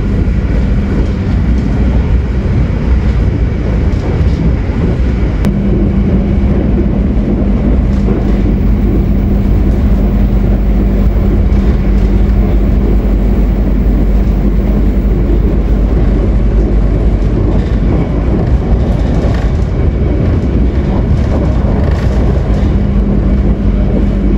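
A steady, dense rumble of the Taksaka passenger train in motion fills the whole stretch, with a faint sustained hum and no speech.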